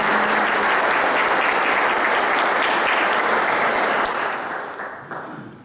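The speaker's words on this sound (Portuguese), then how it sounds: "Creo que merecemos un aplauso a todos." Crowd applause at a municipal event in Santa Rita, Paraguay, welcoming visiting business people: loud, dense, steady clapping from many people that tapers off near the end.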